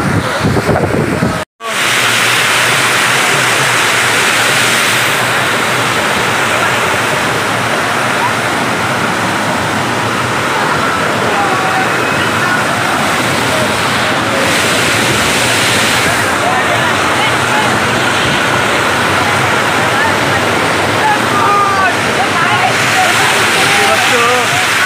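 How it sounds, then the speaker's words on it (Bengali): Steady, loud rushing of water pouring down a hillside waterfall at Lonavala, a dense unbroken roar filling the whole stretch, with faint voices of a crowd mixed under it. "অল টাইম জল যাচ্ছে, এদিকেও জল"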